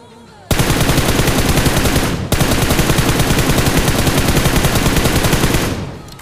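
Loud, rapid automatic gunfire in a battle royale mobile game rattles in a continuous stream, broken by one brief pause before another long sustained burst that cuts off.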